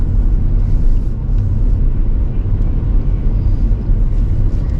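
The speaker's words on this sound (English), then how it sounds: "I gave it some pretty good beans. There was a bit of wheel spin, bit of turbo lag" Diesel BMW 1 Series climbing a hill under hard acceleration, a steady low engine and road rumble filling the cabin, loud and continuous with no voices.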